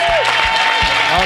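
Congregation applauding and cheering at a church service, a brief wash of clapping and crowd noise with voices mixed in.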